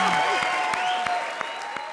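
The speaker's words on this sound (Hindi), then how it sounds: "बता दे दिया, बजा दे ताली" Audience applause on a comedy stage show, a steady wash of clapping with a few sharper hits, while a voice carries on underneath.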